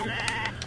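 A sheep bleats in the farming video game Story of Seasons: A Wonderful Life, one wavering bleat over steady game background music, with no talk.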